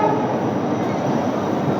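A diesel-hauled Bandra–Veraval express, train no. 19203, rolling into Veraval Junction: a steady, loud, close rumble of wheels and carriages that holds evenly throughout, with no clear horn blast standing out.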